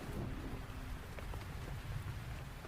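Steady heavy rain pours at night with low thunder rumbling beneath it, a dense continuous wash of drops throughout and no voices.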